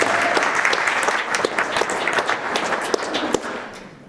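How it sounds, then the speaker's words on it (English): A church congregation at a Sunday Easter service claps steadily, a dense patter of hands close by that fades out at the end. "Can we give her a clap?"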